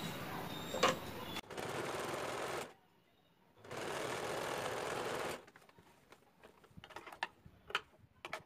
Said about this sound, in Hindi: मैं यहाँ से एक कच्चा सिलाई करना है